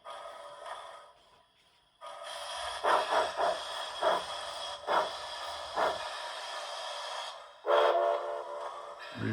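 Model IHC steam locomotive running on a Soundtraxx Blunami decoder, playing sustained whistle and chuff sounds with several sharp puffs and a loud closing blast, alone with no talk.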